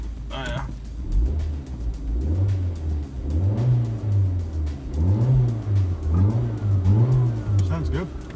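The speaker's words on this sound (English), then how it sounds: "we're over here revving" A 2005 Hyundai Accent engine revs up and down repeatedly, rising and falling in pitch with a throaty rumble close by, while people talk over it.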